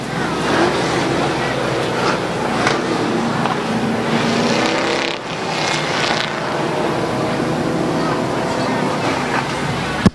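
Race cars circle the track at Midvale Speedway, engines roaring and droning past at moderate distance, while a commentator talks over the racing throughout.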